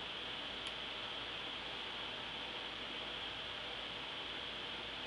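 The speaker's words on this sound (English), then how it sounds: "My furnaces have kicked on." A home furnace runs steadily in the background, a faint, even whoosh of air with no change over the whole stretch and no talking.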